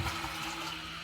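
A household toilet with an Aquasource fill valve rushes and gurgles in a brief, steady burst of flowing water, close and moderately loud.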